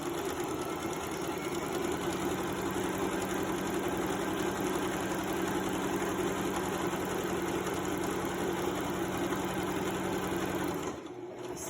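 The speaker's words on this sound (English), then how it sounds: "Move your stitches to zigzag and clean the edge with zigzag." A sewing machine runs steadily in zigzag stitch along the raw edge of a skirt's fabric, a close, continuous mechanical whir with a fine rapid rhythm that stops abruptly near the end.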